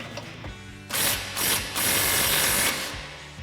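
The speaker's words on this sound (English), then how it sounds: "we'll grab our 18 mil socket and swivel adapter on our impact, loosen this up" Impact wrench with an 18 mm socket and swivel adapter loosening a nut on a Ford F-150 front suspension, firing in three loud rattling bursts, the last one longest, with a brief quieter pause between them.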